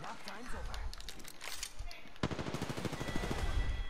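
Automatic gunfire in the shooter Apex Legends, rapid bursts crackling close by, heaviest in the second half, with a player's voice talking over the shots.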